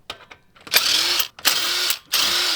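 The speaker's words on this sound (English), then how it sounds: "without that breaker bar, this would have been difficult for this little cheap Ryobi drill" A cheap Ryobi drill loosens a bolt during a DIY clutch replacement, whirring in three loud bursts separated by short pauses, close by and without talk.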